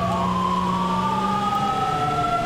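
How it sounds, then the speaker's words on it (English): A wailing ambulance siren from GTA V, loud and continuous with steady sweeping tones over a low vehicle engine rumble, heard alone without talk. "I'm just going to follow the AI ambulance."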